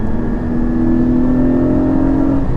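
Porsche Cayman GT4 engine accelerating along a Scottish road on the NC500, a loud, close, steady roar whose pitch rises smoothly over a couple of seconds, no talking.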